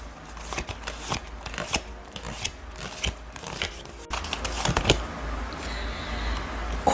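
Oracle cards being shuffled during a tarot reading produce a run of close, papery riffles and soft taps, irregular and fairly quiet, with a denser stretch of rustling toward the end.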